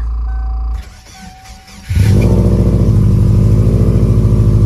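A bagged big-turbo Subaru Forester engine, damaged in a semi-truck accident, cranks briefly, then catches and settles into a loud, steady idle close by.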